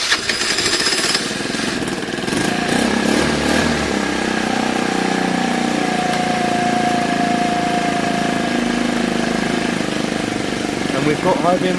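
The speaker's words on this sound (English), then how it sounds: "as well as a starting and running engine" Piaggio Fly 50cc scooter engine started and left running, loud and close: a rough, buzzy small two-wheeler drone holding steady throughout with a faint tonal whine partway through.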